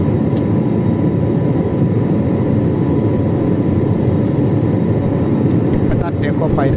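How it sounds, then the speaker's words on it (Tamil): Airliner climbing just after take-off on Saudi to Sri Lanka flight UL264, heard from inside the cabin as a loud, steady broadband engine roar with no pauses and a few faint clicks near the end. "4912 அடி உயரத்தில் இப்போ ஃப்ளைட் பறந்து கொண்டு இருக்குது"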